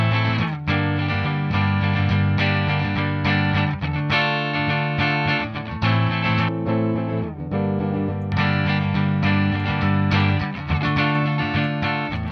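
Electric guitar played through a software amp simulator with gain and distortion, a thick, saturated overdriven tone sounding loud and continuous with sustained chords and brief gaps, no voices.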